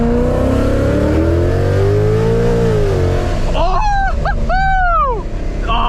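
A 700hp Ford Mustang fitted with a Corsa sport exhaust and drag pack revs loudly up close, its pitch climbing and falling in long sweeps before an excited voice shouts over it.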